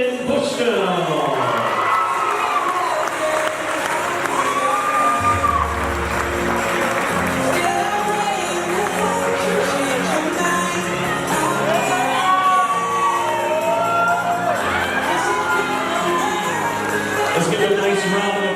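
Wedding reception guests clap and cheer loudly and continuously, with shouts and whoops rising from a crowd over a steady stream of music.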